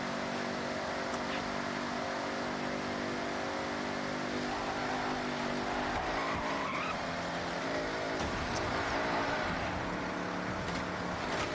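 Supercharged car engine in Forza Horizon 5, its centrifugal supercharger boosting to 32 PSI: a loud, sustained engine roar with a whine running through it and shifting revs, close and continuous with no talk over it.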